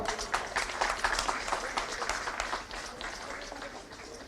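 Applause at a police passing out parade in Jharkhand, attended by Chief Minister Hemant Soren: steady, fairly distant clapping from a large gathering, continuing evenly before thinning slightly toward the end.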